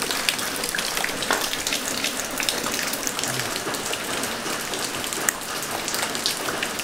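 Steady monsoon rain pours without pause, a dense continuous hiss of drops hitting surfaces with scattered close splashes, loud and unbroken, with no voices.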